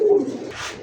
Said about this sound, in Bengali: হ্যাঁ বিগ সাইজের দুইটা কবুতর আছে মাশাআল্লাহ, একটা হচ্ছে রেসার